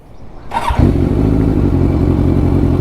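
A Kawasaki Ninja 1000SX superbike engine cranks and fires up, then settles into a loud, deep, steady idle with a rumbling exhaust.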